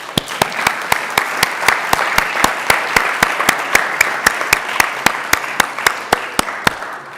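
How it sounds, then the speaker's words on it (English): A city council meeting audience applauds fire, medical and emergency response crews, with a steady roomful of clapping and distinct louder claps cutting through at a regular beat, close and continuous throughout. "So please join me in giving them a big round of applause for all they do every day."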